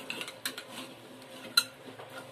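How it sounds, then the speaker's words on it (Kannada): Potatoes and eggplant are stirred in a pot, with a few sharp metallic clinks and scrapes of a spoon against the rim at irregular intervals, close and fairly quiet, with no talking. "ಆಲೂಗಡ್ಡೆನ ಬದನೆಕಾಯಿ ತರ ಚೆನ್ನಾಗಿ ಮಿಕ್ಸ್ ಮಾಡ್ಕೊಬೇಕು"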